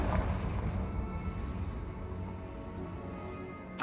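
A Confringo spell blast in a Harry Potter video game: a loud, rumbling burst of noise that rolls on steadily for about four seconds and ends in a sharp crack.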